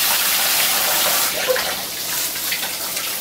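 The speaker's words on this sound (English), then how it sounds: "I just rinse them off in cold water for a minute or so" Cold tap water runs over shirataki noodles being rinsed in a kitchen, making a steady, close hiss and splash for the whole stretch with no talking.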